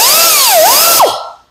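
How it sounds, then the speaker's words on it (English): A die grinder fitted with a small wire wheel scrubs rust out of a groove on a John Deere lift cylinder, a loud continuous high whine with pitch dipping and rising under load, then spinning down to silence. "I got a little wire wheel on my die grinder here. I'll go ahead and clean this groove up and this rust here"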